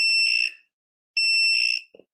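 Two sharp, high-pitched electronic beeps, each about half a second long and separated by a short pause, followed by a faint brief click.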